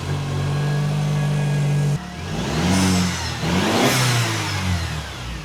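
Mercedes engine with the turbo muffler deleted, revving hard: a steady loud drone, then a sudden shift into two rising and falling throttle blips, aggressive and close.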